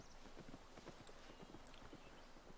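A mule's hooves clip-clop at a steady walking pace in the video game Albion Online, quiet, regular hoof taps over a low, constant background hum.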